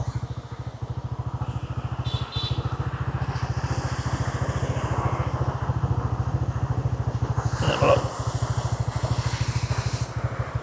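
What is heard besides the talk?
motorbike engine idling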